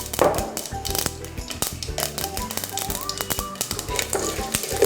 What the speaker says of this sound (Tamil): ஸோ கடுகு, உளுந்தம்பருப்பு முதல்ல போட்டிருக்கோம். அது நல்லா வதங்கட்டும்.